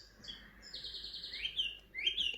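Summer birdsong nature track playing from a relaxation app, with quiet high chirps and rising trills repeating softly against a faint background.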